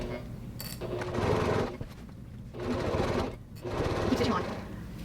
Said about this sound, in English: And now I'm just going to stitch.